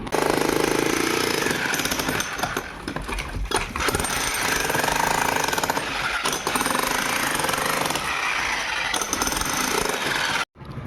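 A vibrator breaker machine hammers away at an old concrete staircase during demolition, a loud, continuous rapid pounding close by that runs almost unbroken before cutting off abruptly near the end.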